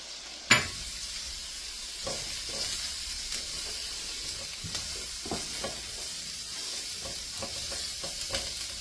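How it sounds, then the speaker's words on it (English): Onions and mushrooms sauté in a pan, opening with a sharp clack, then a steady sizzle broken by repeated spatula scrapes and taps, close and alone. "then we're going to saute the onions and mushrooms"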